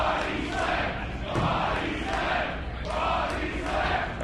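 A wrestling crowd at a rec-room show roars and chants steadily, a dense wall of many voices swelling in waves as they call for a body slam.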